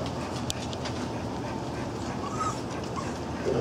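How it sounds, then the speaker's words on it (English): Young puppies whimper and yip in short, high squeaks over a constant rumbling background, with scattered soft sounds nearby. "There's some new puppies right there."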